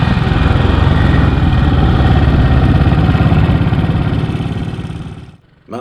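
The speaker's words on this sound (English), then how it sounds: "is riding a matchless G12 CSR competition sprung roadster from 1960" A 1960 Matchless G12 CSR competition sprung roadster motorcycle engine runs close and loud with a steady throbbing drone, fading briefly near the end before picking up again.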